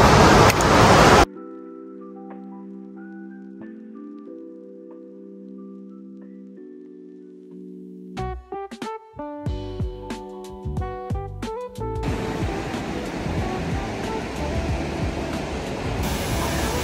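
Broadband rushing water from a mountain stream and waterfalls on a Himalayan trek opens the clip and returns near the end, with plucked music playing over a quieter middle stretch.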